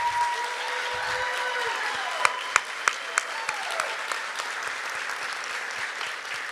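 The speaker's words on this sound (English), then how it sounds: "give a round of applause to our facilities and M&O team" Applause from an audience at a college fall convocation, a steady wash of clapping with a few sharper near claps, while faint whistles or tones drift through the background.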